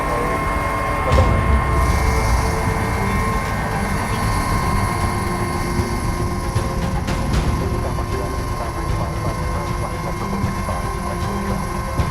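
A Dauphin helicopter lands during a mountain rescue. A loud, steady turbine whine and rotor roar with rattling mechanical texture carry throughout, close and continuous.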